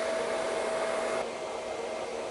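A hair dryer blow-dries hair for natural-wave styling, giving a loud, steady close-up whoosh that drops slightly in strength partway through, with no talking.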